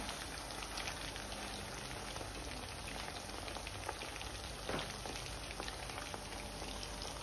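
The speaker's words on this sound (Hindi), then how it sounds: "क्रिस्पी होने तक चिकन को हमें फ्राई करना है, डीप फ्राई करना है।" Chicken deep frying until crispy in hot oil for a street-style chicken Schezwan rice, a steady, dense crackling sizzle that stays even and close throughout, with no voices.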